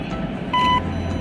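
A single short electronic beep from smart vision glasses, clear and steady for about a quarter second, over a low background hum.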